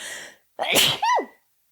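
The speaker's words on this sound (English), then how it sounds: "I'm going to sneeze." A single close, loud sneeze: a sharp breathy burst followed by a short voiced squeal at the end, preceded by a quick inhale.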